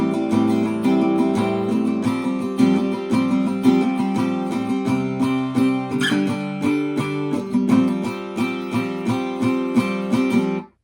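An acoustic guitar plays the second part of the bridge of a song, with steady strummed chords ringing close and clear and a few chord changes over about eleven seconds.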